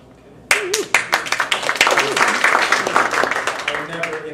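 Applause and clapping from a Toastmasters audience at a humorous speech contest, bursting in loud and sustained as many hands clap at once, with voices talking over it.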